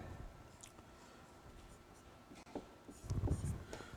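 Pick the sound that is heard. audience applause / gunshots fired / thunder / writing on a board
writing on a board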